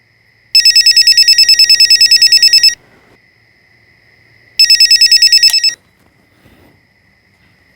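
Telephone ringing loudly at night in two bursts of rapid electronic trills, each about two seconds long, with a quiet pause between them.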